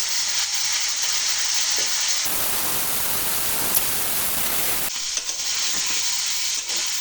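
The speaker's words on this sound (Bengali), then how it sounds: "লবণ আর হলুদ দিয়ে এই সবজিগুলো পেঁয়াজের সঙ্গে একসঙ্গে ভেজে নেব" Vegetables with onions, salt and turmeric fry in a pan, giving a steady broadband sizzle throughout, with a louder, denser burst of crackling in the middle stretch before settling back to a softer, even hiss.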